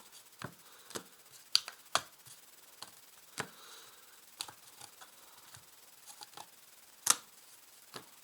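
Tarot cards being shuffled by hand to mix them, heard as quiet, scattered rubs and soft snaps of card edges at irregular moments, close but faint against a near-silent room.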